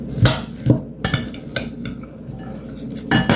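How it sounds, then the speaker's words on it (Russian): Chopped onion, cucumbers and parsley are stirred in a bowl, with a handful of distinct scraping clinks of a utensil against the dish and softer rustling of the vegetables in between. "Высыпаем лук к огурцам с петрушкой. Все тщательно перемешиваем."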